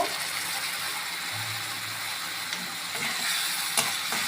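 Veg manchurian sizzles steadily in a pan with schezwan sauce and soy sauce, a close, continuous frying hiss broken by occasional stirring scrapes and a clack near the end, with no voices.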